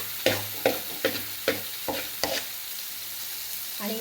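Onion and tomato frying in a kadhai for pav bhaji, with a steady sizzle under six regular scrapes of a spatula pushing the mixture aside, close and clear, ending in a brief clatter.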